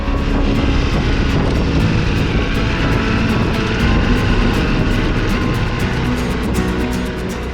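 Ducati Multistrada V4 motorcycle riding along a forest road in the Alps: a continuous, loud engine drone with rushing wind noise, steady throughout with no speech.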